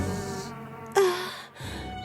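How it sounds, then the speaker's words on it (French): A giant cartoon queen bee buzzes in a steady, insect-like drone that stops and then starts again, with a short tonal accent in between and no talking. "Juste devant elle se tenait une reine des abeilles immense"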